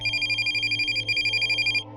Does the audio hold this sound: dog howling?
no